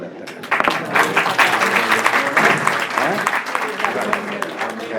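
An audience at an academic panel celebrating fifty years of a publishing house bursts into loud, sustained applause, many hands clapping densely close by, with voices talking over the clapping.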